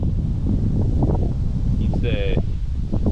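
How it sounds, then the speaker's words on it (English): Steady wind noise buffets the microphone throughout a climb 35 feet above a forest, a low rumbling roar with some rustling, while a person talks over it. "It's a nice windy day today too."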